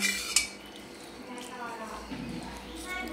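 A cooking pot of jackfruit curry is lifted off the stove with a single sharp metallic clank near the start, followed by faint utensil clinks while a voice talks throughout.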